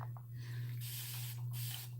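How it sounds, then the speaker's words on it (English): A spray bottle mists tea onto curly hair in short hissing bursts, close by, over a steady low electrical hum. "now what I'm doing is I'm spraying some tea on here and working it"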